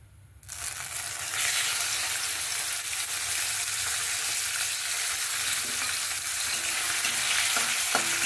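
Small marinated chicken pieces hit a hot pan for restaurant-style mixed fried rice, and a loud, continuous sizzle follows with stirring scrapes running throughout and no talking.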